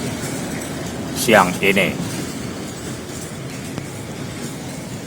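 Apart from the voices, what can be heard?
train entering railway station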